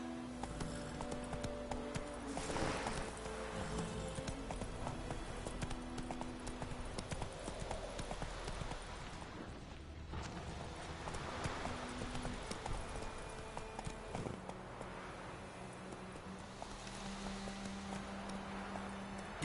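Horse hooves clip-clop at an easy walking pace in The Witcher 3, steady moderate clopping that carries on throughout, with a short break near the middle and no talking.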